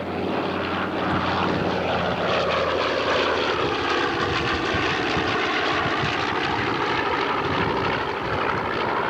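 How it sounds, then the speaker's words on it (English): A B-25 bomber flies at a 1984 airshow in Ballarat and Mangalore, its piston engines and propellers giving a loud, steady, continuous drone that fills the whole stretch without any talk. "B-25 makes its approach to the target area and the enemy in hot pursuit."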